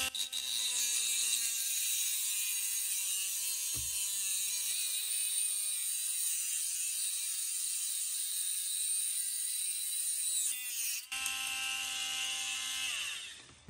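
Rechargeable mini pen rotary tool cutting through the worn tip of a steel Allen key, a steady high-pitched whine held loud and close for about ten seconds, then pitching down as the cut ends, with brief clicks along the way.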